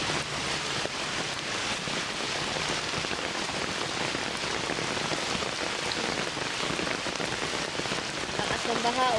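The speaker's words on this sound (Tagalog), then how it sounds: "Lakas kasi ng ulan." Heavy rain pours down steadily on surfaces, a constant loud hiss of drops throughout.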